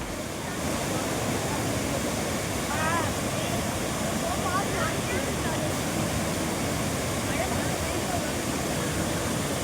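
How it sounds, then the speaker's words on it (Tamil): Water gushes down Thirparappu waterfall swollen by heavy rain, a broad unbroken roar that holds steady throughout while a voice talks over it with faint bird calls. "கனமழையால் திருப்பரப்பு அருவியில் ஆர்ப்பரித்து கொட்டும் தண்ணீர்"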